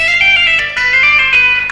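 Electric guitar legato lick in a rock style, hammering on and pulling off between notes from D down to B, played alone with a distorted, sustained tone in a quick run of connected notes.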